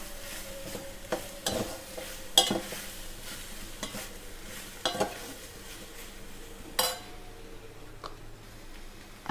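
Potato stew with hand-mashed potato cubes stirred in a pan, a faint low simmering hiss broken by intermittent clinks and scrapes of a spoon against the pan.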